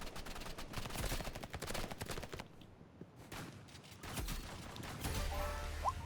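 Uzi and shotgun fire in the video game Rivals: faint, rapid bursts of clattering shots with brief pauses, fairly quiet overall.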